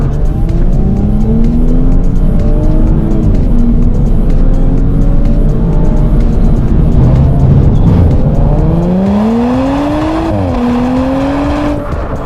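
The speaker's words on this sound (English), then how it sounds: "Switch the mode to dynamic and you can start hearing the burble of the turbo V6" Turbocharged V6 of an Audi S5 B9, a stage 1 car, in dynamic mode, loud and close throughout with a rising, falling engine note and gear changes, with no talking.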